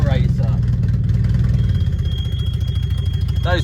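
An old Mercedes W123 engine drones with a rough, throbbing idle-like note while driving, close and continuous inside the car, with voices speaking over it.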